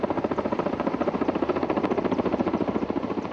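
Firefighting helicopters from a forest aviation unit circle over a reservoir at sunset after a forest fire. A steady, rapid rotor thump pulses continuously at moderate distance, with no voices.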